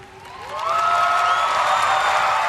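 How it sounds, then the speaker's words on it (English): A large crowd erupts into loud cheering and applause, swelling quickly and holding at a steady roar. "The crowd erupts."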